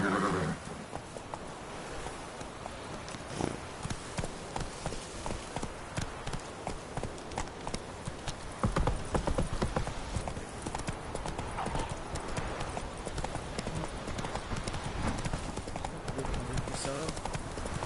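Horse hooves gallop at a steady clip-clop rhythm in The Witcher 3 video game, with a brief whinny and occasional speech over continuous ambient game sound.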